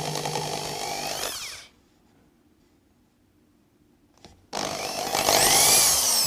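A power drill whirs loudly into wood over a waste piece, stops into near silence, then starts again and bores in for a couple more seconds.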